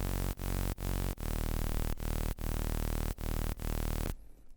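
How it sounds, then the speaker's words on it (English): A single sawtooth mid bass patch in the Serum synth, dropped an octave with added noise, plays as loud sustained buzzing notes in a steady repeating rhythm with short gaps between them, alone and without any voice. "I'm gonna go down an octave, add some noise."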